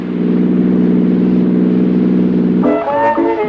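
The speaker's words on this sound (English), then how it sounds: "Yes, here's the sound of knock-free power that saves you money." A car engine running smoothly on Atlantic Imperial gasoline, heard in a 1959 radio ad: a steady, fairly loud mid-pitched hum that holds evenly for almost three seconds before other tones take over at the end.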